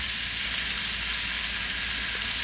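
Vegetables of squash, string beans and moringa sizzle steadily in a hot pan as they are sautéed, a loud, close, continuous frying hiss with no talking.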